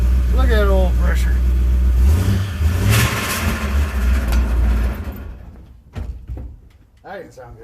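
A 1967 Chevrolet C10 pickup truck engine running after a camshaft change: a loud, close mid-pitched engine hum rises and settles over several seconds, then drops away. Someone talks over it throughout.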